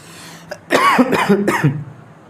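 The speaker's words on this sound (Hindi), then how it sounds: "थोड़ी खांसी आ रही मेरे भाई, रुको।" A single close, throaty cough, a couple of rough hacking bursts in quick succession, loud and clear against a quiet room.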